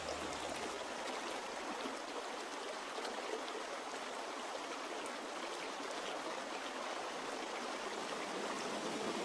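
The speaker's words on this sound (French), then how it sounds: "Il est appelé ainsi à cause de ce ruisseau, dont le bruit évoque des pièces d'argent et de jade qui se brisent." A mountain stream flows near Qingyin Pavilion, about 700 metres up in subtropical Chinese mountains. Its water rushes in a steady, dense hiss with no pauses, close and constant throughout.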